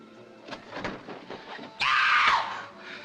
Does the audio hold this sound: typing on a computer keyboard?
no